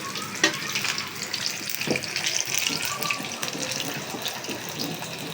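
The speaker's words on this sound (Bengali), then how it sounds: "আর এখানে আমি উইংস ফ্রাই করতেছি" Chicken wings frying one at a time in a home kitchen, a continuous hiss and crackle of hot oil with a few clinks of utensils, fairly close and steady.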